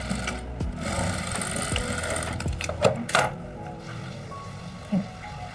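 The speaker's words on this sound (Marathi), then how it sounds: "असं ठेवून अर्धा इंचावर आपल्याला शिलाई मारायची" Sewing machine stitching a blouse seam half an inch in, with a steady mechanical whirr and clicking needle strokes, moderately close, with a few brief handling knocks.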